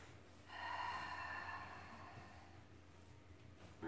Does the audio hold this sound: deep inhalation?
yes